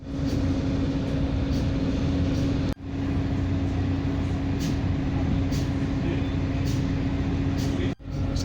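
Steady rumble and hum inside a moving passenger train in Kenya, smooth and continuous, with faint rattles and two brief dropouts; no talk heard.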